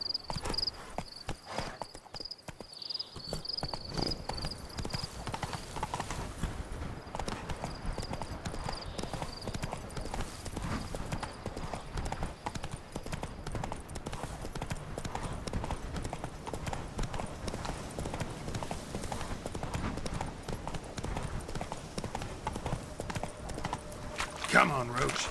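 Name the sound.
horse named Roach being ridden, hooves clip-clopping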